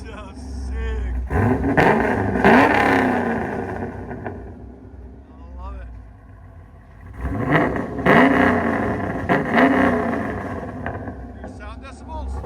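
A 2008 Chevrolet Corvette with a 6.2L V8, long-tube headers and Billy Boat mufflers revs hard twice, its loud exhaust climbing and falling back in two separate bursts close to the microphone.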